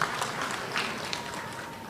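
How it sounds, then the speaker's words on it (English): Faint, distant applause from a crowd at a polytechnic graduation ceremony in a stadium, a steady low patter of clapping with a little murmur of voices. "I wish another round of applause to our Vice-Chancellor for the welcoming remarks."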